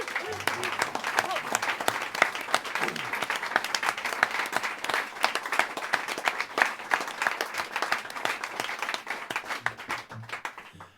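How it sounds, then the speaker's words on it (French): An audience at a concert hall claps loudly for the sound engineer, a sustained wave of crisp hand claps lasting about ten seconds before thinning out at the end. "je voudrais qu'on applaudisse très fort au son ce soir"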